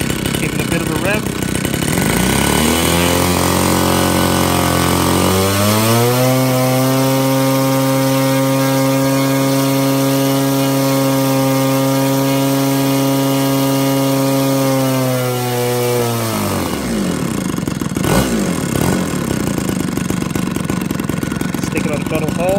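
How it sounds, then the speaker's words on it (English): A 60 cc gas engine on an Xcub model plane revs up from a rough idle into a loud, steady high-pitched buzz that holds for about ten seconds, then drops back down close by. "Give it a bit of a rev."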